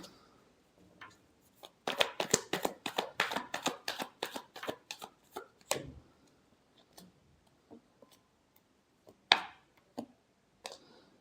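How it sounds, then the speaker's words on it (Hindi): A deck of tarot cards being shuffled up close in a quiet room, a fast run of crisp riffling flicks for about four seconds, then scattered soft taps and single card slaps, with no talking. "Last shuffle."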